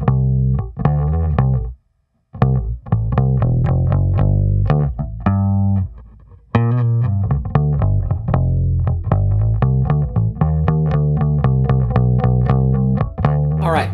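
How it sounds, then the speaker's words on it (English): Japanese-made '57 reissue Fender Precision bass playing a rhythmic bass line of steady plucked notes, full and close, with a brief gap near two seconds and a sustained note fading before the groove resumes. "I pulled out my 57 reissue Fender P bass, made in Japan, killer bass, and laid down a bass part"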